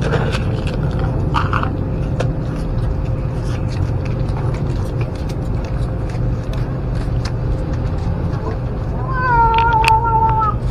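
Stray cats meow while being fed outdoors near a city hospital, a few short meows and then a longer drawn-out cry near the end, over steady road traffic rumble.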